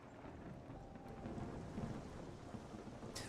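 Rain and thunder in the Monsters & Memories online role-playing game, a continuous wash of rainfall with a low rumbling thunder roll building underneath, loud and steady throughout with no talking.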